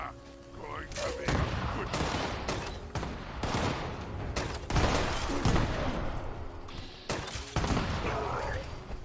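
Rapid bursts of gunfire from in-game weapons in Fallout 76, loud repeated volleys and sharp shots clustered in irregular rhythm throughout, with someone talking under the shooting.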